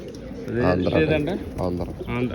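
Two pigeons, one with double white-ringed eyes, coo in low repeated pulses close by, largely mixed under someone talking steadily throughout.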